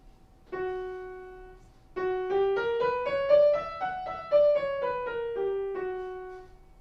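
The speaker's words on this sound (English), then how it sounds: "The Phrygian scale sounds like this." A piano plays a slow single-note Phrygian dominant scale, rising then falling, each note ringing clearly in a quiet room.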